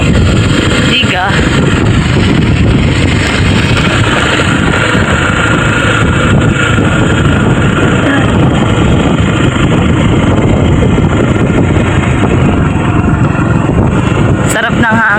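Steady roaring wind by rice fields buffets the microphone throughout, loud and constant, with a brief sharp knock near the end.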